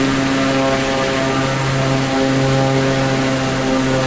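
A propeller airplane engine runs at full power in flight, a loud, constant droning roar with a steady buzzing hum that never lets up.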